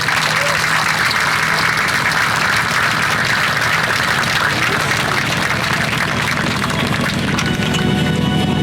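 An audience at a Chula Vista State of the City address applauds the park rangers, loud, dense clapping that runs steadily from start to finish, with some voices mixed in.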